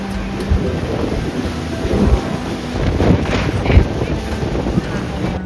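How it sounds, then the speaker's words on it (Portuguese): Strong wind on Santorini buffets and roars across the microphone in uneven gusts, loud and close, with a constant blustery rush throughout. "Outro fator que merece muita atenção é o vento."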